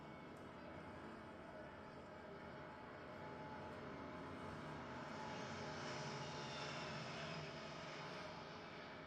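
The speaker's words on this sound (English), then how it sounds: "the second wave of transport aircraft, the Voyager, a modified civilian Airbus A330-200 passenger aircraft, and an A400M Atlas" A Voyager, a modified Airbus A330-200, and an A400M Atlas fly past together at a royal birthday parade, giving a faint, steady, broad jet and propeller roar from a distance with no talk.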